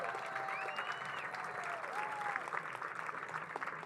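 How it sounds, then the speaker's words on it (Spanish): An audience at a book-fair panel event applauds a guest, a soft, distant, steady wash of clapping with some faint tonal whines over it. "Y el tercero es el gran Mauricio Cartún, a quien pido un gran aplauso."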